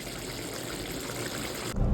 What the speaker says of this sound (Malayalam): ആ വെള്ളം അളന്നൊഴിച്ച ശേഷം അതവിടെ വെള്ളം തിളപ്പിക്കാൻ വെക്കും.